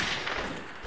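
Cannon fire in the Mount & Blade: Blood and Iron battle game, a dense booming blast with rumbling thuds under a layer of battlefield noise, loud and close.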